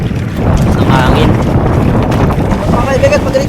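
Wind gusts over a small boat on the open sea in rough, wavy conditions, a steady broadband rush with occasional water sounds, and someone talking over it.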